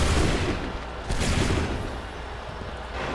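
Musket volley gunfire in Assassin's Creed 3 as Redcoats attack, a dense rumbling burst of overlapping shots at the start and again just past one second, fading into a roaring, smoky wash.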